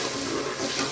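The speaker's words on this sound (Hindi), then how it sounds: "तो इसमें अभी थोड़ा सा पानी डालेंगे" Water splashes steadily into a cooking pot holding sugar and cardamom for zarda sugar syrup, a short continuous close pour with no talking.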